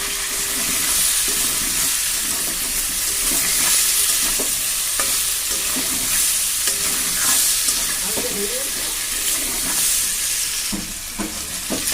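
A spoon stirs and scrapes through potatoes and pumpkin frying with salt and turmeric in a pan. The oil sizzles steadily and close, broken by repeated clinks and scrapes, and no one speaks.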